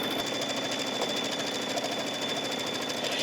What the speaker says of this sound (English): the machine is going to stitch a rectangle around the fabric and the batting